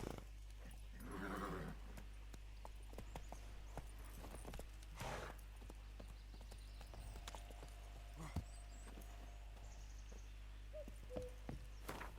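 Roach the horse runs in The Witcher 3 with hoof clip-clops at moderate loudness, mixed with game ambience and a few brief rustles and thuds over about twelve seconds.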